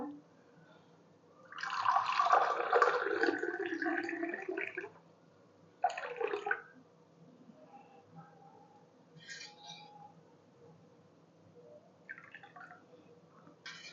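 Kokum sharbat is poured into glasses in soft, faint bursts of trickling liquid, a longer pour followed by a brief one, with small clinks and drips in a quiet room.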